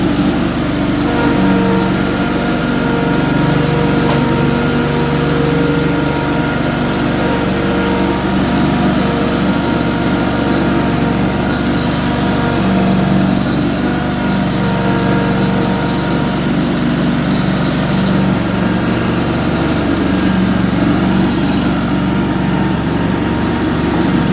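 A Ferris Pro Cut 61 commercial mower engine runs steadily throughout, a loud, close, continuous small-engine drone with no talk over it.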